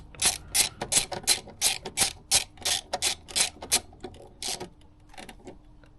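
A hand ratchet clicks in quick, close bursts while tightening a bolt on a BMW G20 turbo intake, with a 10mm held to counter it. The rapid pawl ticks slow and thin out toward the end.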